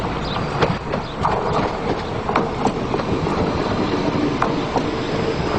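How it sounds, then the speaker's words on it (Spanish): A Renfe Civia commuter train runs on rails, a steady broadband rumble with faint clickety-clack and brief wheel squeals, continuous and fairly close for several seconds with no voices. "los nuevos Civia, que ya ruedan por las cercanías de las capitales españolas."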